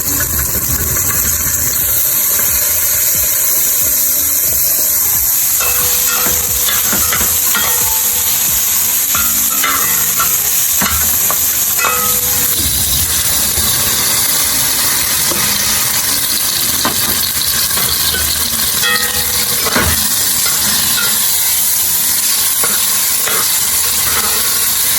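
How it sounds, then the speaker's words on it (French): Kidneys and spices sautéing together in a pan, a steady loud sizzle with intermittent scraping stirs, continuous throughout with no talking. "je vais ajouter les rognons et les épices frits bien ensemble pour que les rognons s'imprègnent bien"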